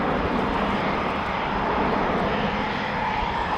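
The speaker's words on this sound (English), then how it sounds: "Very smartly into the air, a 70-degree turn after takeoff." An Airbus A400M Atlas military turboprop banks steeply just after takeoff at an air show, a loud, steady, broad engine roar that holds throughout with no break.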